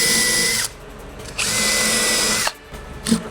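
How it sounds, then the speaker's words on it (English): A power drill drives screws into a wooden speaker cabinet board for a 2x21 subwoofer build, with two long, loud whirring runs separated by a brief pause, then a short clunk. "I like to put one screw into the board,"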